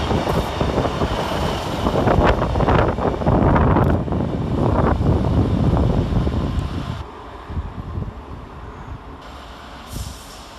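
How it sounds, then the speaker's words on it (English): Two coupled Class 185 Transpennine Express units arrive on the far side at Doncaster station, a loud rumbling approach with wind buffeting that fades into a quieter idle near the end. "Arriving on the far side is 185-121 and 185-135 with the 12:42 Transpennine Express service from Cleethorpes to Manchester Piccadilly."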